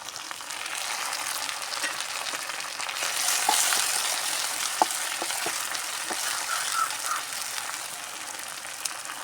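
Green chillies and tomatoes fry in a pan with a steady, close sizzle, broken by occasional soft clicks from stirring, with no voices.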